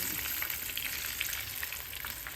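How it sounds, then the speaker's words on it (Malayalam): Chicken pieces fry in hot oil with a continuous, moderately faint bubbling sizzle and crackle, heard alone without voices. "അപ്പം ബാക്കി പീസും കൂടെ പൊരിക്കാൻ വെച്ചിട്ടുണ്ട്"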